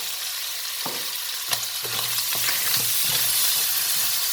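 Tofu stir-fried with fermented soybean paste sizzles steadily in a hot wok while a utensil scrapes and stirs in repeated strokes, the frying growing slightly louder toward the end.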